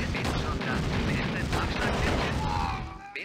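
Artillery fire in the 1996 game Command & Conquer Red Alert, a steady dense rumble of booming shots and explosions layered with battle noise, fading slightly at the end, with a voice speaking over it.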